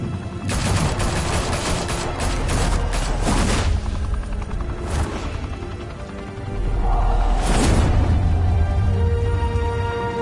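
Gunfire rattles through a Batman video game scene in dense, loud bursts of rapid shots and booms, continuing without a break across the stretch.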